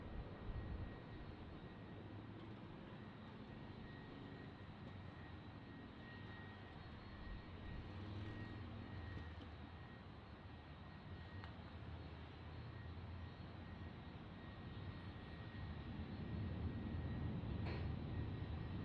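A British Airways airliner comes in to land at San Diego, passing right overhead, its jet engines a steady, faint roar that swells slightly near the end.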